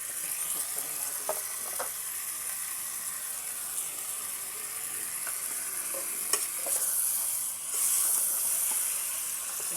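Chicken sautéing for tinola, Nueva Ecija style, with a steady close sizzle and hiss throughout, broken by a few light scrapes and clicks of stirring; no one speaks.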